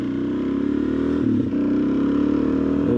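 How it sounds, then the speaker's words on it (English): A 2020 Suzuki DRZ 400 dual-sport motorcycle engine droning steadily while riding, loud and close, with a brief dip and recovery in revs midway and no talk. "That brings us here to riding the DRZ 400 now."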